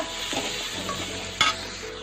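Tomatoes sautéing in a pan make a low, continuous sizzle, with a single clear scrape or clink of a utensil near the end, heard close with no talking.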